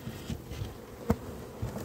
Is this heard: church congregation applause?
no